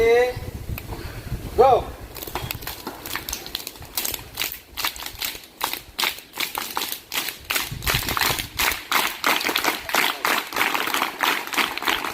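School audience at a village high school alumni gathering doing a rain clap, a pattering burst of many hands building into dense, uneven tapping and clapping that continues for several seconds, with a voice speaking over the start.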